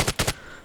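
Grau 5.56 assault rifle fire in COD Mobile: three quick, sharp shots in a tight burst, fairly quiet and distant, with no voices.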